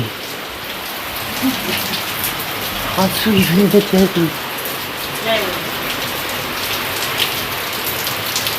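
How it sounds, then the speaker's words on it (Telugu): Steady rain hisses throughout, a dense patter on surfaces, while a voice speaks briefly in the middle. "వర్షం పడుతుంది"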